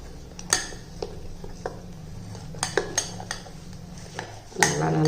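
A ladle stirs idli batter into multigrain batter in a bowl, giving scattered metallic clinks and scrapes against the bowl over a low steady hum, with a sharper clatter near the end.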